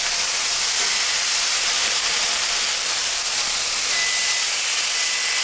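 Steaks just flipped in a hot pan, searing with a loud, steady, unbroken sizzle that holds evenly from start to finish with no voices.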